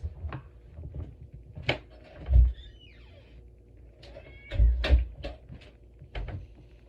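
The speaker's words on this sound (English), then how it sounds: "my cat is meowing" A house cat meows several times indoors, close and clear, with a few louder knocks and thumps like a cupboard or door in between.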